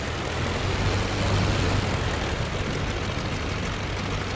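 A WWI fighter plane's engine roars at full throttle on takeoff in the Rise of Flight flight simulator game, with a loud, steady propeller drone that does not let up.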